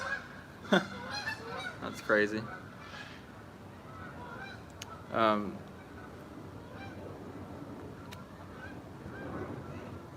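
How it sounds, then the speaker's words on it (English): Geese honk while flying overhead, several loud calls clustered early and another burst midway, then fainter honks trailing off, with a person speaking briefly between them. "Here's the geese again. They're going right overhead this time."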